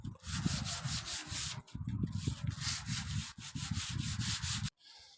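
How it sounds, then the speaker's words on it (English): Coarse 60-grit sandpaper scrubbed by hand over a metal surface to scuff it and strip loose rust, giving steady rhythmic rasping strokes, close and loud, with a brief pause partway and a short break near the end. "I'm giving it a good sand with Hamilton's 60 grit sandpaper just to scratch the surface and also to remove any sort of loose visible rust."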